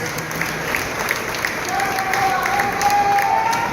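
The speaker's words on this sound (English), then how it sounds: "Let's give them all a round of applause." Crowd at a campaign rally in Edinburg, Texas applauding veterans, sustained clapping and cheering from many people, steady and fairly loud, with a voice speaking over it.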